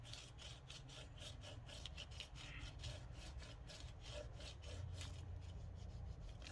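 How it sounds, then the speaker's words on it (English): Folded paper for a junk journal envelope being burnished, a steady close rubbing with rapid repeated strokes that continue without pause and without talk. "make sure you burnish it quite well"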